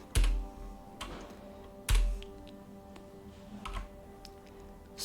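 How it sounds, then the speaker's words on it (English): Keys tapped on a computer keyboard while entering a Linux terminal command, a few sharp distinct presses with faint ticks between them in a quiet room. "So we'll just type in sudo apt install and then just paste it in."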